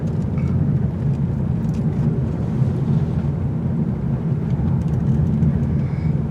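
A 2019 Mazda 3 Hatchback with all-wheel drive rounds a turning circle, its steady road and engine rumble filling the cabin, loud and continuous with no break.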